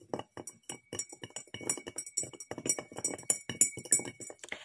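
A spatula stirs sugar into water in a glass, making rapid, irregular, close-up clinks and taps against the glass with short gaps between them.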